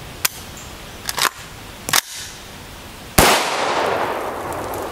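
Sharp, loud gunshots from a .223 Remington rifle firing Golden Tiger 55-grain FMJ steel-case ammunition at a velocity test, four distinct cracks spaced about a second apart, the last followed by a lingering outdoor echo and hiss.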